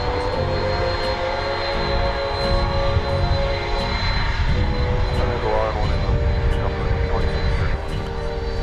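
An American Airlines Airbus A321neo jet landing at DFW at night gives a steady, loud broadband engine roar that holds throughout without fading, with faint voices mixed in beneath it.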